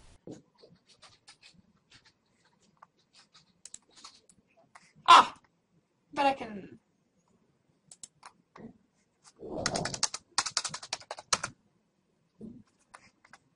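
Keys tapped on a computer keyboard in an office software session, sparse soft clicks and a few short bursts of quicker typing, close by and quiet, with brief speech.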